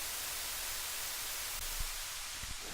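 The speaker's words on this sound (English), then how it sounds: "think I need to fix that white noise. There's kind of a delay there. Oh no, that's just the ping pong." A dense, steady hiss of white noise from a progressive house production, filling the whole range evenly with a few faint low thumps near the end and no voices.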